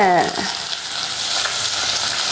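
Stingray pieces drop into hot oil with fried fenugreek and fennel seeds, bursting into a loud, close sizzle that settles into steady crackling frying, with a brief stirring scrape at the start.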